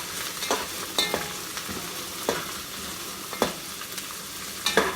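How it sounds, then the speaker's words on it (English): Ginger, pepper and onion sauté in a pan while being stirred, giving a steady sizzle broken by repeated scraping strokes of the utensil, close up and with no voices. "ginger, and pepper. Then we're going to mix. The onion also is there."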